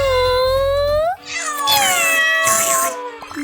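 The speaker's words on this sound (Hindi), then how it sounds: "बिल्ली।" Cat meowing in an animated children's story: one drawn-out rising meow, then after a brief pause a longer wavering meow with a second call, close and clear over light background tones.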